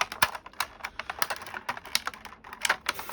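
A plastic blister pack holding a metal Robocop model part is cut and pried open, giving a quick run of close, sharp clicks and snips at an uneven rhythm, with no talking.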